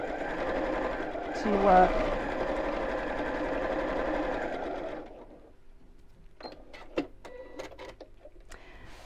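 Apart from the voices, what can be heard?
sewing machine top stitching a drawstring pouch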